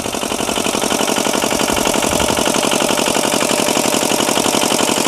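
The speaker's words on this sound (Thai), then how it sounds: "ไป220โวลต์พอดีครับ นี่ครับเป็นไดห้อฟ็อกครับฟอก5กิโลวัตต์" A 5 kW generator runs near a newly installed borehole water pump setup, a loud, steady, rapid engine chug close by with no voices.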